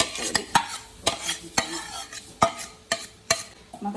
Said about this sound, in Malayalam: അങ്ങനെ ഇതെല്ലാം അതും കൂടി മിക്സ് ചെയ്യാം